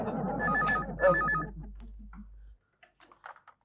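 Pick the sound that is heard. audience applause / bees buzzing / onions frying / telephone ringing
telephone ringing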